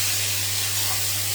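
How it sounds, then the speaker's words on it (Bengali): Tomatoes poured into a hot pan of browned onions for a spicy kofta curry set off a steady, loud broadband sizzle and hiss that holds evenly for a moment, with a low hum underneath and no voices. "সর্বপ্রথম আমি ঢেলে দিচ্ছি টমেটো"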